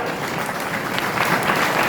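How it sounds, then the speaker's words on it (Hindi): Audience at a university event on their feet giving a standing ovation, dense continuous applause from a large crowd, loud and close, with no talk over it. "खड़े होकर जरा एक बार जोरदार ढंग से ताली बजाएंगे सभी"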